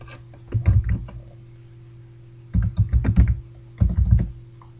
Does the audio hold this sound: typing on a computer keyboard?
yes